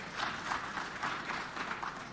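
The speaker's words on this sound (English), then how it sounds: "Let's clap for her." Faint, steady applause from a business forum audience for a panelist, soft distant clapping with a gentle pulsing texture and no voices over it.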